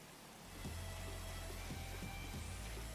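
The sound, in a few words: rain sound in video game GTA 5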